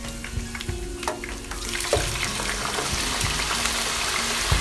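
Potato chips fry in very hot oil with a steady, close crackling sizzle, broken by occasional louder pops and stirring scrapes.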